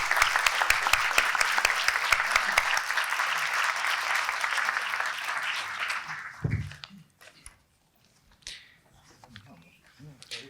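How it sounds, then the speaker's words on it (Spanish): Loud sustained applause from a conference audience for a panel, dense clapping for several seconds that fades out, followed by quiet room noise and a few stray sounds. "un fuerte aplauso para nuestros panelistas"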